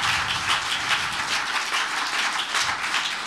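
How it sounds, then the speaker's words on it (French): An audience applauds after a talk on travel to Mars. The clapping is dense and steady and fills the room without any voices over it. "je vous propose d'applaudir très fort Victoria et Marie Bardot."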